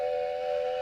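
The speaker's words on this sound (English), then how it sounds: "Sound the trade whistle." Trade whistle sound effect at a sports draft show, a steady sustained high whistle tone held unbroken and loud, alone without talk.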